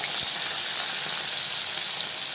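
Hot oil sizzles in a pan on a gas stove while a vegetable curry is started with turmeric, a steady, bright frying hiss with a few soft pops and no voices.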